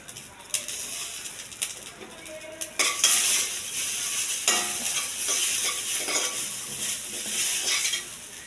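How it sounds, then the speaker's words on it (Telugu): Mustard seeds, dried red chillies and curry leaves fry in hot oil for a coconut and ivy gourd chutney, giving a steady loud sizzle with crackling pops and a few stirring clinks of a utensil against the pan. "కొద్దిగా ఆవాలు, కొన్ని ఎండుమిర్చి, కరివేపాకు. ఈ కొక్కో కూడా వేగించుకోవాలి."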